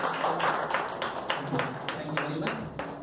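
Audience clapping at a church birthday celebration, a steady patter of claps from a group, moderately close and continuous.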